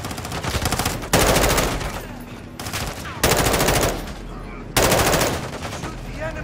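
Automatic gunfire in the Call of Duty Modern Warfare II video game campaign, three long loud bursts of rapid shots separated by short gaps, close and dominant.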